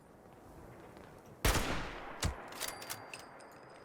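A single sharp sniper rifle shot in Fallout 76, loud and sudden, followed by a fainter second crack and a few small clicks and impacts as the sound fades.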